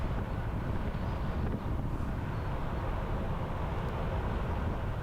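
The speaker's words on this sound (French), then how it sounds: "Je peux vous dire qu'il y a du vent." Wind buffets the microphone in a constant, loud roar of rough, low noise that never lets up.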